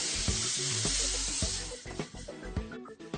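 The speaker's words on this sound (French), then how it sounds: "Avec quelques coups de pinceau, l'intérieur de la casserole s'offre un revêtement en étain" Molten tin is brushed inside a copper saucepan during tinning, giving a crackling sizzle with repeated short scraping strokes and taps at close range, without speech.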